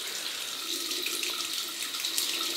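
Tap water running steadily into a sink to heat a Boots the Chemist razor, a constant close splashing hiss with no talking.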